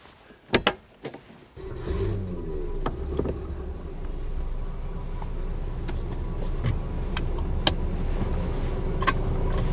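A 1970 Mercedes 600 starts and drives off, with a few sharp clunks and a brief engine burst at the start, then a steady low engine and road rumble that stays close and continuous with faint interior knocks.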